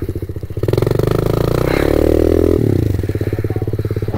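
A video game motorcycle engine hums loudly and steadily, rising into a strained rev and then settling back, with light clattering underneath and no voices.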